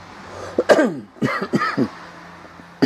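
Several short coughs in quick succession, close and fairly loud, separated by brief pauses over a quiet background hum.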